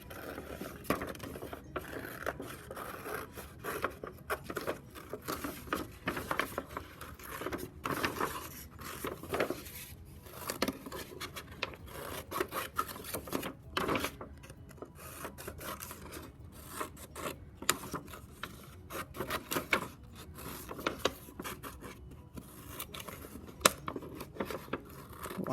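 Scissors cut out a paper snowman, giving a long run of soft, irregular snips and paper rustles close by, fairly quiet with no talk over them.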